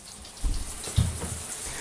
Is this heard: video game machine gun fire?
no